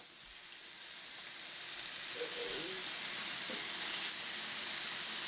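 Bacon sizzles in a pan for a homemade trailer park pizza, a steady hissing fry that grows gradually louder, with a couple of faint clinks or stirs and no clear talking.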